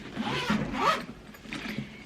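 A zipper on a Chanel Classic medium double flap bag is drawn closed, a close raspy zip in two quick pulls with a brief pause between.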